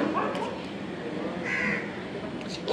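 Crows caw near a beach in the evening, with a few harsh calls rising over a continuous hiss of background ambience.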